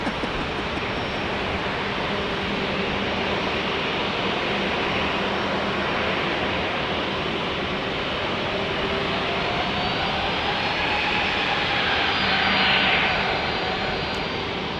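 Air Canada jet airliner at San Diego's single-runway airport, a broad sustained engine roar with a whining tone that swells slightly toward the end, heard from a distance with no talk.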